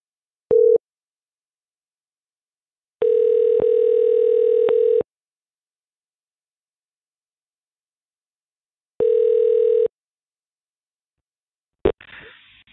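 Telephone line tones sound while a support number is dialed: a short beep, then two long steady tones separated by silence, loud and clear, ending with a brief click and a faint rustle.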